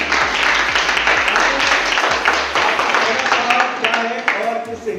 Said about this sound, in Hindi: कार्तिक की जोरदार तालियां।